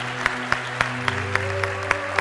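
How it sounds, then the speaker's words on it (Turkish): Audience applause in a hall, heard as sharp, evenly spaced claps roughly every quarter second over a steady background hum, moderately loud and unaccompanied by speech. "Ben de seni alkışlıyorum."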